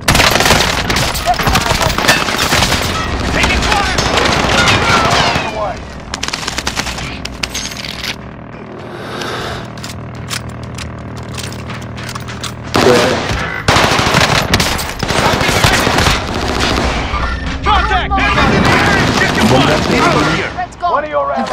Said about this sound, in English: Those bastards are shooting at me!